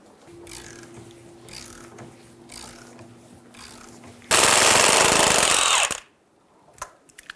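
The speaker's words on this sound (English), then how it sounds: "Using a T50 bit and a 15mm socket, we're going to loosen and remove the ball joint bolt and nut." Ball joint bolt on the front lower control arm of a 2000-2007 Ford Focus being loosened with a T50 bit and 15mm socket: a steady whirring and hum gives way to a loud, dense burst of impact-gun hammering for about two seconds, then a few faint clicks.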